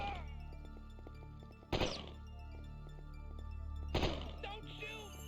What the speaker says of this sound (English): Ooh, that's a grenade.